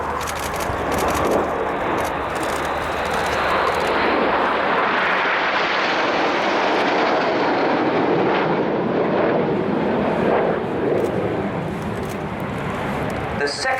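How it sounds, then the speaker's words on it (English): Concorde flying past at the RIAT air show alongside the Red Arrows, a loud sustained jet roar swelling and fading across the whole stretch, with a commentator's voice over it. "Ladies and gentlemen, this is Concorde."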